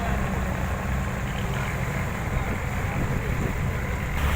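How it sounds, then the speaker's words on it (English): Steady churning rumble of a ferry's propellers pushing water on the Konkan Coast, a constant loud wash with a low engine drone beneath. "The propellers pushing the water behind as we went ahead was a very soothing sound"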